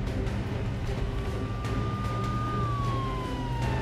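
An ambulance siren wails in the horror video game A Quiet Place: The Road Ahead, a single sustained tone that glides up and then sinks lower over a steady low rumble of engine noise.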